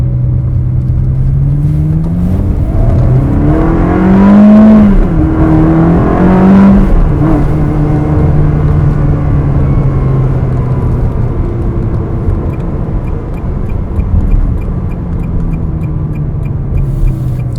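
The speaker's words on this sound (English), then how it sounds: "If we take it down, just do a couple of donuts, you can see how tight the steering is." A 2004 Ferrari 360 Spider doing donuts, its engine droning loud and close with rising and falling revs and a short surge partway through, alone without talk.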